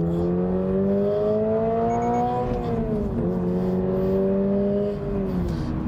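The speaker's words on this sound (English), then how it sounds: "You may be able to hear there that when you do go to change up, the engine hangs the revs for quite a while." A 2023 Toyota GR86 engine revs hard under full acceleration, a loud rising drone that dips briefly at a gear change then climbs again, continuous and close with no talking.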